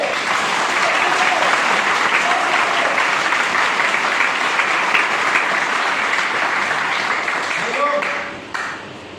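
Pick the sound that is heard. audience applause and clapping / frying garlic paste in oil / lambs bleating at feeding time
audience applause and clapping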